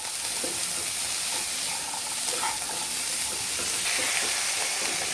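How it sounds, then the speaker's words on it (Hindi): Vegetables sautéed on high flame with salt for a cheesy bread lasagna, a steady hiss of frying with stirring scrapes throughout, close and fairly loud with no talk. "फटाफट से हाई फ्लेम में सौते कर लें।"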